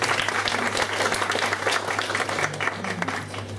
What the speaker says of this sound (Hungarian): Tessék csak nyugodtan tapsolni.